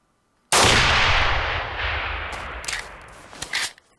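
A satchel charge in the 2011 Xbox 360 game Breach is shot and detonates, a sudden loud blast after brief silence that roars and slowly decays, followed by several sharp cracks and debris impacts as a building partly collapses.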